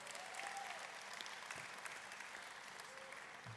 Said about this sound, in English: I'd wonder if you'd just give them a round of applause.